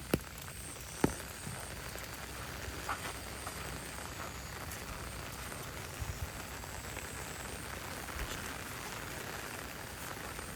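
Soft, steady patter of rain falling, faint and even throughout, with a few isolated drips or taps standing out.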